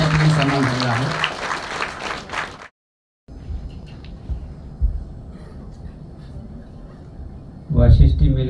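Audience applause at a prize-distribution ceremony for a dairy's smart reels contest, with a dense, steady patter of clapping lasting several seconds after a voice speaks and then a brief silence, then swelling louder near the end.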